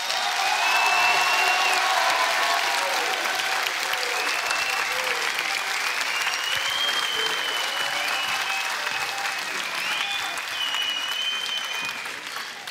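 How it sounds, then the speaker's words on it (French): Loud sustained applause from a theatre audience at a grand final, a dense continuous roar of clapping with faint whistles and cheers, easing slightly at the end. "Vous pouvez vraiment vous applaudir très,"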